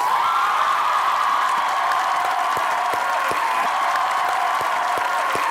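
A studio audience on the talk show Hasna Mana Hai applauds to welcome actress Kiran Malik, with dense, loud, continuous clapping and a faint crowd murmur underneath throughout.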